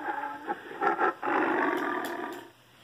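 A tiger roars in a long, rough, throaty call, preceded by a few shorter grunting bursts. The sound is fairly close and stands alone, then fades out.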